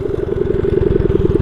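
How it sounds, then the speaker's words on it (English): A budget mini bike with a torque converter runs its loud exhaust close by, a fast, even putter of rapid pulses that sounds like steady idling or light throttle, with no talking. "That exhaust is pretty loud."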